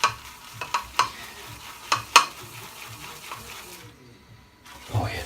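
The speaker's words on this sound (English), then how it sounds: "I've already rubbed my soap into the bowl and then straight in with the brush." Shaving brush lathering soap in a bowl, wet swishing and stirring with several sharp taps and splashy flicks, close and fairly loud, with a brief silent gap near the end.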